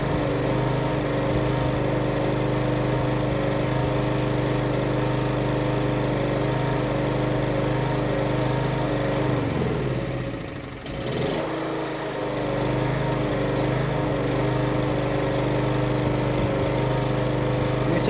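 A Performance Power 780 two-stroke generator runs steadily at close range with a loud, buzzing drone that dips briefly in speed midway, then picks back up and holds.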